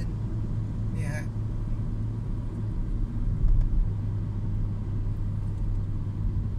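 A 2018 Toyota Yaris Ativ 1.2 G engine pulls in gear with a low, steady cabin rumble that rises briefly midway, while a voice talks over it.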